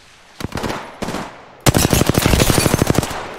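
Rapid automatic gunfire from Apex Legends, a couple of short bursts followed by a long, loud sustained volley of sharp, evenly spaced shots, close and dominant with no talking.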